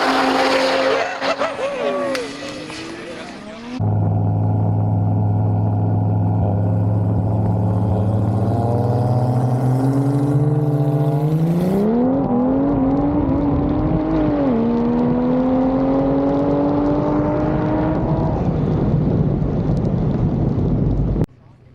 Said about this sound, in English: Daniel versus the Mustang